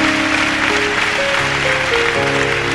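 A church congregation claps steadily through a service, a dense continuous wash of applause layered over sustained organ or keyboard chords.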